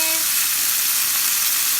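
Steak sizzling steadily in a hot pan for a steak and egg dinner, with a constant close, loud frying hiss and no talk.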